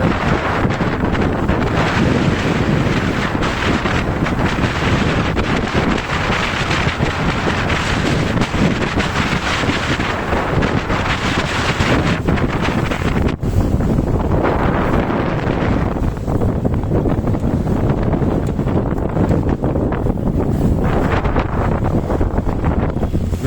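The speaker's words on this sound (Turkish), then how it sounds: "Rüzgardan dolayı belki sesimi duyamıyor olabilirsiniz. Çünkü bayağı rüzgarlı." Strong wind roars continuously across the microphone aboard a sailboat at sea in the Aegean, with rushing water and sea surf underneath, loud and steady throughout.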